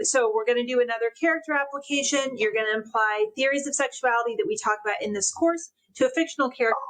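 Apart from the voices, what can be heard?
No everyday noise stands out behind the speech.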